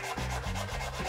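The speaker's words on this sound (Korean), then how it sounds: "손사포로 마저 다듬어주면," A wooden bookshelf is hand-sanded with sandpaper, a steady close rasping rub repeated in several even back-and-forth strokes with no voices.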